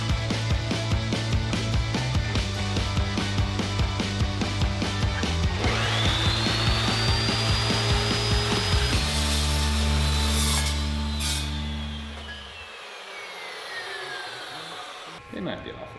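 Power saw cuts through metal tubing for a fuel cell mount in a garage, a loud sustained whine that shifts pitch as the blade bites, then spins down near the end.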